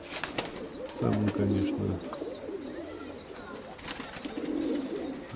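Domestic pigeons coo in a loft, a clear cooing burst near the start with softer calls later, while someone talks quietly nearby.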